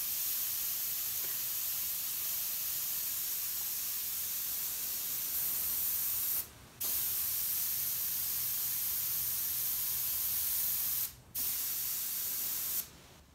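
An airbrush gun sprays in a steady, faint hiss, broken by three brief pauses as the trigger is released and pressed again.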